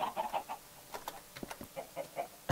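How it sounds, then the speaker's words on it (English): Minecraft chickens on a video game chicken farm cluck in a rapid series of short, soft, irregular bursts, several birds overlapping at close range with no talk. "I've got my own little chicken farm"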